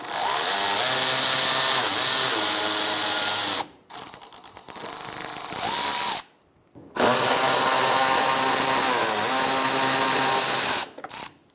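A bolt being removed with a 5.5mm socket from the front bumper cover of a 2000-2007 Ford Taurus, heard as a loud, whining power-driven spin in long continuous runs with brief pauses between them.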